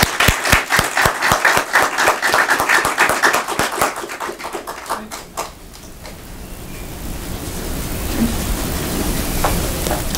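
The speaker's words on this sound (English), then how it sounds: "Let's give him a big round of applause," A church congregation applauds loudly with sharp, distinct claps for about five seconds, then the clapping fades into a low rumbling room tone.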